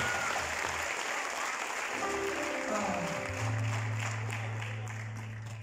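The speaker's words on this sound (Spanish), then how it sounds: "Fuerte el aplauso para los porciúnculas" Carnival crowd applauding for the Porciúnculas, a dense steady clapping that fills the space, joined by held musical tones from a band partway through.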